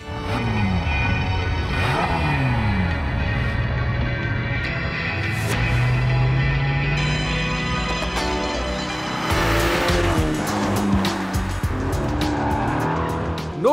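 A Ferrari GTC4 Lusso T with a 610-horsepower twin-turbo V8 drives on roads in Tuscany, the engine loud and close as it revs and shifts repeatedly, with occasional tire noise.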